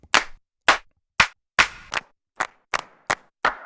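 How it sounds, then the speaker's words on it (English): Sampled handclaps from a Teenage Engineering EP-133 KO II sampler, about nine crisp, dry hits in an uneven sequence, each a short sharp burst with fast decay, loud and close with silence between. "Lots of claps."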